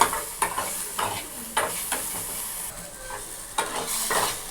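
Spices for a fish curry fry in a pan while a spoon stirs them, producing repeated scraping strokes over a constant close sizzle, with no talking.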